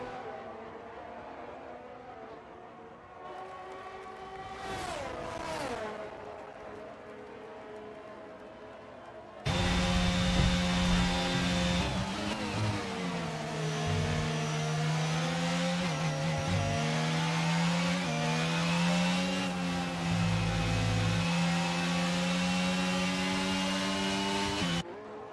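F1 race cars in a racing video game scream along in a steady high-pitched engine whine that rises and falls through gear changes, loud and continuous, with a commentator talking over it.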